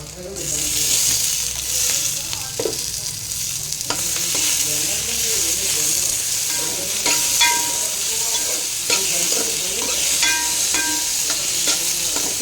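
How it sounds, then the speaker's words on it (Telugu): Tomatoes frying and being stirred in a pan for chapala pulusu, a steady loud sizzle with repeated scraping strokes of a spoon throughout, no voices. "ఇప్పుడు ఈ టమాటాలు కూడా వేసేసుకుందాం."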